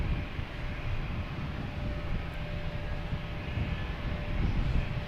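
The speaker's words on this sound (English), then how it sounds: "We got 2 planes coming in right now. We have a Southwest and an American Airlines." Airliners arriving at Boston Logan Airport, a Southwest jet in from Baltimore and an American Airlines jet in from Dallas-Fort Worth, make a steady, moderately distant engine roar with a faint whine on top, rising slightly toward the end, with no talking.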